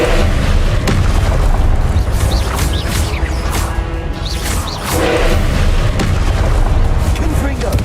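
Casting the Incendio spell in Hogwarts Legacy combat brings booming, fiery blasts amid a dense, loud clash of other spell impacts.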